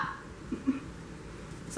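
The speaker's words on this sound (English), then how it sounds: "My dog is barking back." A pet dog gives a couple of short, fairly quiet barks indoors, with brief yips heard near the start and again at the end.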